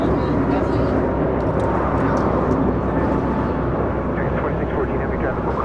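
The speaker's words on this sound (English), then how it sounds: "We've got the Emirates A380 now, next arrival on 25 left." An Emirates Airbus A380 arriving on runway 25 left at LAX, a loud, sustained roar of jet engines with broad rumbling noise and little change in level, with a voice talking over it.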